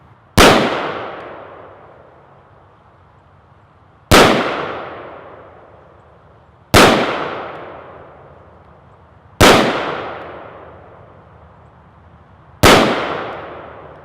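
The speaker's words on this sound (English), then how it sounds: "So 5 shots with the AR." An AR rifle fires five sharp, evenly spaced shots outdoors, each a loud crack followed by a decaying echo tail, with roughly two to three seconds of near silence between rounds.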